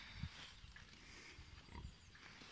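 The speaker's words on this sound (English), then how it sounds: "It's full of milk, that pig." A pig full of milk grunts faintly a few times at a distance, short low snorts scattered over quiet outdoor background.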